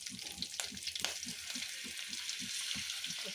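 Tempering sizzles and fries in a pan for leftover-rice lemon rice, a steady bright hiss with soft rhythmic stirring thumps underneath, fairly quiet and without speech.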